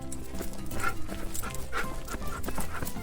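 A dog pants nearby in quick rhythmic breaths, a steady run of short, moderately loud huffs.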